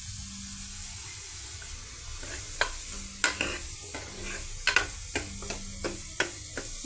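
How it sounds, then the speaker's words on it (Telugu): A spoon stirs cooked dal with salt, chilli powder and tamarind in a pan, giving a steady hiss broken by sharp scraping clinks at an uneven pace, close and alone with no talk. "అన్నీ ఈ విధంగా మిక్స్ చేసేద్దామండి"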